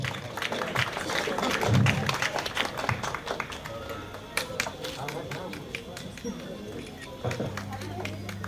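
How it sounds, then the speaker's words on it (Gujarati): A crowd at a civic groundbreaking ceremony in Bhavnagar claps to welcome guests being presented bouquets, a scattered patter of hands mixed with voices and some bumps, fading slightly over time. "આપણે જોરદાર તાળીઓના ગગડાટથી વધાવીએ."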